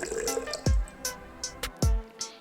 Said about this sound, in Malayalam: ഒരു ജഗ് എടുത്തിട്ട് അതിലേക്ക് 2 കപ്പ് വെള്ളമാണ് ഞാനിപ്പോൾ ഇവിടെ ഒഴിച്ച് കൊടുത്തിട്ടുള്ളത്.